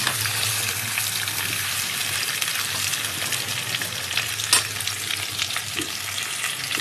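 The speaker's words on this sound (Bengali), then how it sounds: "এখন ভাজা হচ্ছে আমটা।" Mango pieces for a sweet-sour mango pickle fry in a pan with a steady, loud sizzle and crackle that runs the whole time, with occasional stirring scrapes and no talk.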